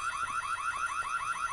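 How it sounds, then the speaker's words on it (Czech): An electronic alarm in the Korean horror video game White Day wails in a fast, steady, repeating warble, loud and continuous with no voices over it. "tu je myslím alarm"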